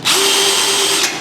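A power drill with a Phillips driver bit runs steadily for just over a second, driving a screw into a Recteq Deck Boss 800 grill during assembly, a loud, close, continuous whine that stops abruptly.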